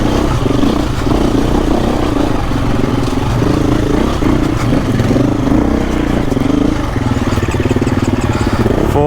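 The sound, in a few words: KTM EXC-F 350 four-stroke dirt bike engine stalling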